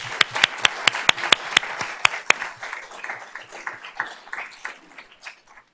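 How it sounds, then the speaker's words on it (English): Applause at a school district board of trustees meeting, opening with a run of loud, evenly spaced claps from a nearby pair of hands over a smaller crowd, then thinning out into softer scattered clapping. "Let's give them a round of applause."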